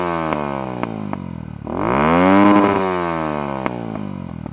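A Lexmoto ZSX-F motorcycle engine idles with a steady pulsing beat, then revs up loudly and falls back to idle, close by and with no talking.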